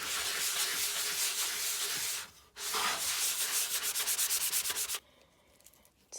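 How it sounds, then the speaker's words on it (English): Sandpaper scrubs a wooden shutter board in steady back-and-forth strokes, loud and close, with a brief pause midway and the rubbing trailing off quietly near the end. "First, we're going to try to sand it a little bit."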